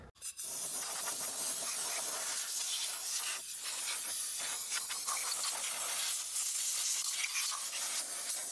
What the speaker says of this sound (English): and blow all the air out.